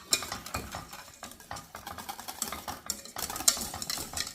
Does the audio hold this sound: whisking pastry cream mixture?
yes